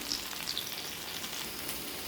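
A soft continuous sizzle comes from rotis cooking in a kadai, quiet and even, with a couple of faint crackles early on and no voices.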